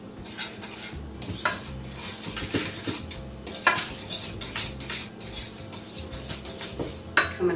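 Flour and salt are mixed into a thick cake batter in a bowl, a utensil scraping and clinking steadily against the bowl's sides in a continuous stirring rhythm with a few sharper knocks.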